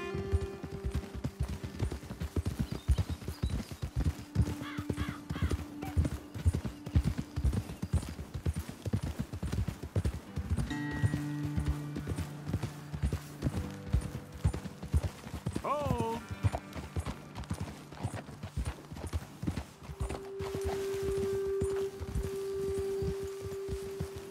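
Horses walking in Red Dead Redemption 2, steady hoof clip-clops on a road at close range with an occasional whinny, carrying on for the whole stretch under music and voices talking.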